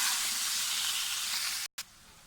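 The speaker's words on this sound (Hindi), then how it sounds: "अब इसके साथ ये टमाटर और हरी मिर्च और ये नमक मिर्च डाल के इसको 2 मिनट भूनेंगे" Tomatoes, green chilies, salt and chili powder frying in a garlic-ginger masala for a mixed vegetable sabzi give a loud, steady, close sizzle that breaks off briefly near the end. No one talks.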